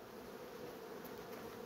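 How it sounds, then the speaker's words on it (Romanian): Honey bees buzzing steadily at an opened beehive during hive inspection, a continuous dense drone that stays even and close throughout, with no voices. "hai să deschidem un stup să vedem"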